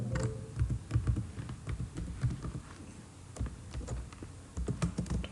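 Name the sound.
typing on a computer keyboard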